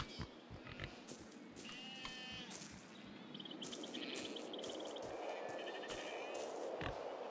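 A sheep, called a jumbuck, bleats repeatedly in the video game Broken Roads, quiet nasal cries layered over a busy, continuous background of game ambience.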